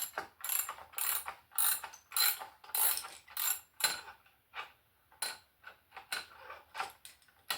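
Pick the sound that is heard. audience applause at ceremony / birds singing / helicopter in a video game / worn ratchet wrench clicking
worn ratchet wrench clicking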